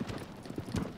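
Horse hooves clip-clopping in Shadow of the Colossus, a quick run of close, fairly soft hoofbeats over about a second, alone without talk.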